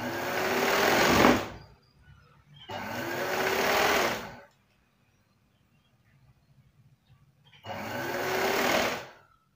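A sewing machine stitches two layers of fabric together in three loud, steady bursts of whirring, with short pauses between runs.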